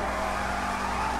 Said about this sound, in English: I'm gonna get in and start doing some burnouts